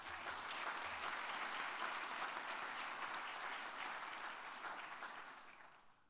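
Sustained, dense applause from a large audience at the AFRL Annual Awards Ceremony, loud and steady for several seconds before it tapers off near the end.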